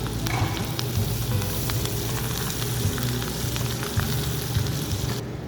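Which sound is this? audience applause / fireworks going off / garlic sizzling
garlic sizzling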